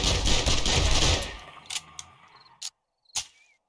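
Submachine gun fire during a zombie fight in the game 7 Days to Die, heard as a dense, loud burst of rapid shots for over a second. It thins into a few separate sharp reports, then near silence.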